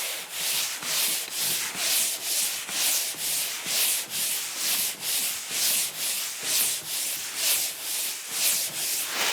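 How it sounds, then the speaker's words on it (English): A drywall wall being hand sanded with 180 grit sandpaper on a pole sander, giving a steady, rhythmic back-and-forth scraping that repeats in even strokes, close and loud with no voice. "this beautiful little action here where I can sand the whole wall at once"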